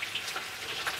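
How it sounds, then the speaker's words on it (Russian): Chicken frying hard in a pan, a continuous faint crackling sizzle with soft scattered pops, heard alone at low level with no voices. "Курица тут жарится вовсю."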